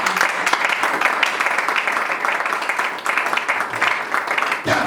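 Church congregation applauding to acclaim the Lord during a worship service, steady dense clapping filling the room throughout, with voices mixed in beneath it.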